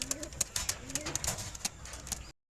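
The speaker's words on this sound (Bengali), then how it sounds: "বন্ধুরা দেখুন আমি এখানে তিন পিস কবুতর নিয়ে এসেছি" Indian Madras pigeons in a seller's loft coo softly with rolling, warbled notes over faint background noise, ending in sudden silence.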